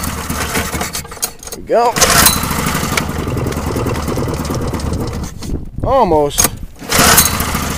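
A small engine is pull-started by its freshly restrung pullcord in two sharp rasping pulls, each a rising whir, over a steady background drone, with a person talking briefly between attempts.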